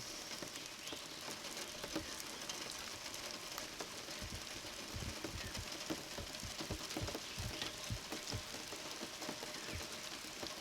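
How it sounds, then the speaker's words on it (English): Steady rain patters on a camper nearby, heard from inside, a dense continuous hiss with scattered heavier drops, no voices. "Rain, rain."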